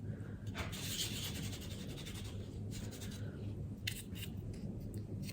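Gum paste ginkgo leaf rubbed firmly on the back while pressed against its cutter, a soft, steady scratchy rubbing close up that runs throughout with a few brighter strokes.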